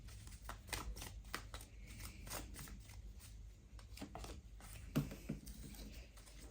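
Tarot cards are shuffled for a reading, giving a soft continuous riffling patter close by, with a slightly louder flick near the end.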